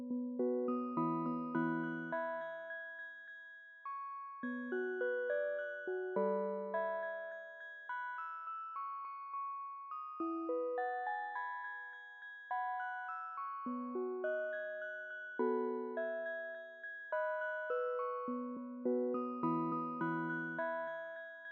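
Synth melody for a 2000s R&B beat made in Logic Pro X: clean, bell-like plucked tones in a repeating phrase of short notes and chords, decaying quickly, playing alone and fairly soft throughout.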